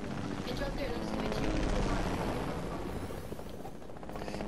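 A helicopter in the video game Fortnite gives a loud, close, continuous rotor rumble with broadband engine roar. It holds steady across the whole stretch, mixed with other game noise.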